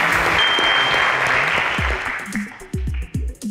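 Applause fills a school quiz-show studio for Dansol High School, dense clapping that fades after a couple of seconds as a voice starts speaking.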